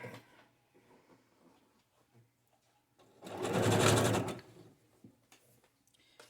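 A sewing machine stitching fabric ruffles whirs rapidly for about a second and a half, close by, between quiet handling noises and soft rustling.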